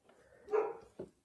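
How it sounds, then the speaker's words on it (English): A German dog barks a couple of short, moderately loud barks close by, one longer bark followed by a brief second one, with no talking over it. "whose dog is that?"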